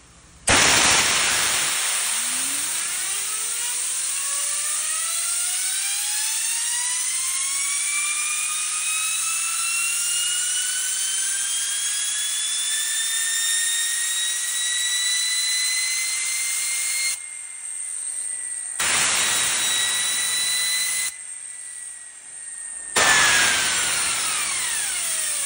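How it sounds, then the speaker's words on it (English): Spun up by an air gun, an over-speeding bearing rises into a loud, jet-engine-like whine that keeps climbing in pitch, then cuts out abruptly a few times and comes back. "today you're going to be over speeding a bearing"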